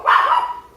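A puppy lets out a single short, sharp bark close by, fading quickly into quiet.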